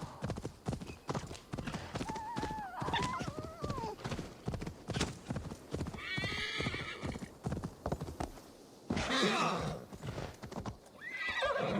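A horse gallops in the Assassin's Creed Valhalla video game, with rapid clip-clop hoofbeats, whinnies and snorts over game sounds and a voice speaking.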